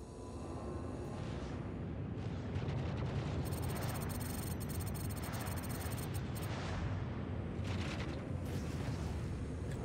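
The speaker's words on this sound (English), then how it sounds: "Blow the Starfarer's fuel tanks and watch them pop" Spaceship fuel tanks explode in a Star Citizen space battle, giving a sustained, dense roar of blasts and rumbling booms that fills the whole stretch, with sharp crackling bursts layered over it.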